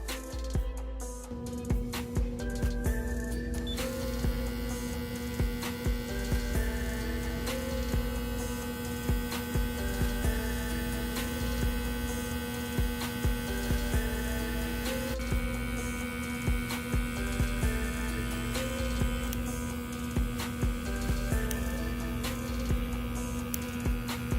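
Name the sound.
electric hair clipper running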